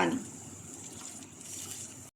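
Half a cup of water poured into masala frying in a pan starts with a brief louder splash and then settles into a soft, steady hiss that fades out abruptly.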